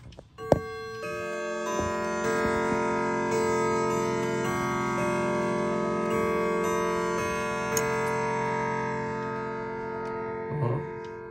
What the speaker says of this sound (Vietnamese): đến tròn tiếng thì anh em sẽ nghe chuông và nó sẽ điểm thêm cho các bác là một cái bài nhạc